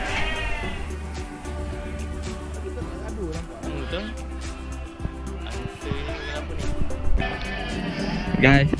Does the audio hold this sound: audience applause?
no